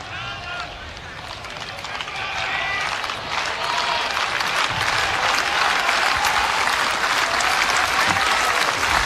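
A capacity crowd at an NCAA college baseball game between South Dakota State and Nebraska cheers and applauds, the sound swelling into a loud, sustained roar of clapping.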